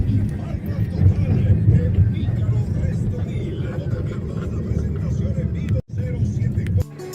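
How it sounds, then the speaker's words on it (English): Steady road traffic rumbles along a congested multi-lane highway leading into Quito, a continuous broadband roar of passing cars close by, with a brief dropout near the end. "So the traffic gets a bit congested as you get closer to the center of town"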